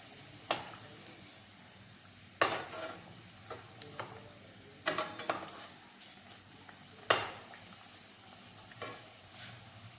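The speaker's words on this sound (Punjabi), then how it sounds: "ਤੇਲ ਹੋ ਗਿਆ ਆਪਣਾ ਗਰਮ ਤੇ ਹੁਣ ਆਪਾਂ ਪਾ ਕੇ ਦੇਖੀਏ ਥੋੜਾ ਜਿਹਾ ਵਿੱਚ ਹੁਣ ਆਪਾਂ ਇਹ ਚ ਪਾ ਦਨੇ ਆ ਸਮੋਸਾ" Homemade dal samosas frying in hot Dalda ghee in a pan, a steady soft sizzle broken by sharp clinks and scrapes of a utensil stirring at intervals, close by.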